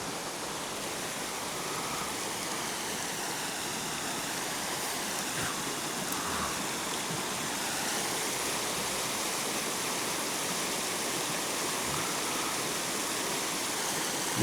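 A waterfall near a power station roars steadily and fairly close, a dense broadband rush of falling water that continues evenly throughout with no voices.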